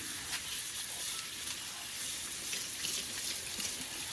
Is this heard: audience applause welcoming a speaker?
no